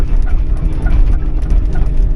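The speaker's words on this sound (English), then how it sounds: "This plate on the ram, the guard there, that rattles around a little bit." A loose metal guard plate on a machine ram rattles continuously over a low machine drone while sorting timber, with quick uneven clatters close by.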